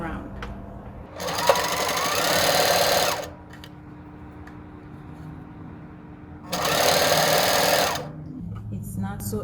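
A sewing machine stitches a fabric cover around a circle in two loud bursts of rapid whirring, each about two seconds long, separated by a quieter pause with faint background sound.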